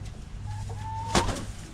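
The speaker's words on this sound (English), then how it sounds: "Black chicken, bad chicken." A chicken gives a short run of clucks and a rising call close by, with one sharp louder squawk near the end, over a low steady background hum.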